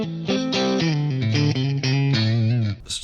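An electric guitar plays a short melodic, distorted phrase through a Fractal Audio FM9 modeler set to a heavily mixed large hall reverb, the notes close and loud with a lush wash trailing behind them.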